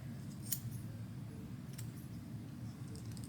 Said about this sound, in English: Let's see how it cuts hair.